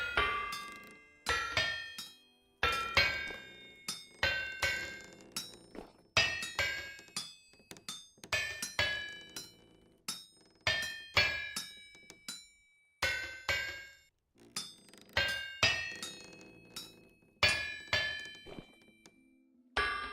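Smithing hammer striking metal on an anvil in the video game Vintage Story, a run of sharp ringing clangs in irregular bursts, each blow decaying quickly, close and clear with no talking.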